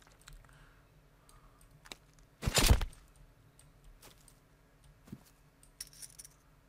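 Coin pickup in the survival game The Forest, a single bright metallic clink burst standing out against faint clicks and quiet ambience.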